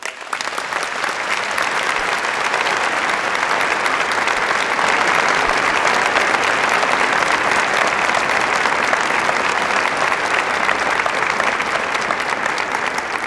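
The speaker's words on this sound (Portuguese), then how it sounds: "Saudemos os nossos sacerdotes com uma salva de palmas." A church congregation at a Holy Thursday Mass applauds its priests, with dense, sustained clapping from many hands. The applause stays loud and even throughout and fills the room with no break, and no talking is heard over it.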